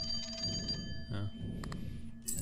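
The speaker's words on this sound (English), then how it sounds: "Answer the phone." A telephone rings, a bright repeated electronic trill in short bursts, moderately loud, with some background chatter and noise around it.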